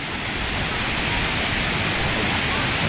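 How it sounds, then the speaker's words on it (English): Water rushes steadily down the Runoff Rapids slide at Blizzard Beach, Disney World, Orlando, as a loud, continuous hiss that never lets up, heard close by. "Looks like everyone's going down the water slide."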